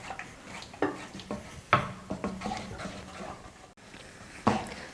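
Halwa is stirred in a pan over a low flame with soft, faint scraping and occasional clinks of a spoon against the pan at an irregular rhythm, in a quiet setting.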